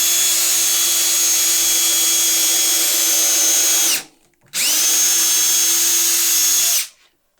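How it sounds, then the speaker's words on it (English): A power drill pre-drills holes in wood for shoe shelves, whining loud and steady up close in two long bursts with a short stop between them, no voices present. "I'm going to pre-drill because I don't want to split out the wood"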